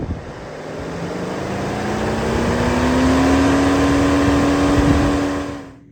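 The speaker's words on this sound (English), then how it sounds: "You can hear the radiator fan is running" A car's radiator fan runs during a diagnostic actuator test: a steady broadband whoosh with a hum that rises slowly in pitch as the fan spins up, loud and close, then cutting off at the end.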